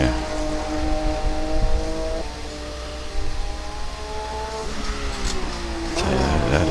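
Porsche 991 engine at full throttle in the rFactor racing game, a steady loud rising drone with repeated gear-shift drops, climbing again near the end.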